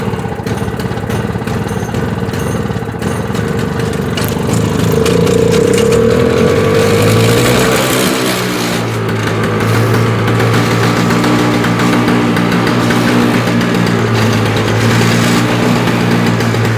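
A Toro CCR 3650 snowblower's small engine catches after a pull, revs up and settles into a loud, steady running drone close by, with no talk.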